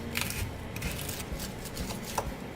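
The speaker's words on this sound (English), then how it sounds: "Wow, this thing is crispy." Close, crisp crunching and crackling, irregular bites of a crunchy cornstarch-coated fried crust with no talking.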